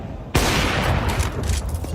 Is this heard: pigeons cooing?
no